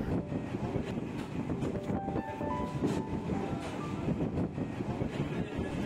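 A train runs beside the Suez Canal on the way to Port Said, a steady rolling rumble and rattle of wheels on track heard continuously from onboard, with faint high squeals from the rails.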